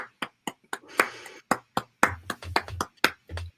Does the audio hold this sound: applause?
yes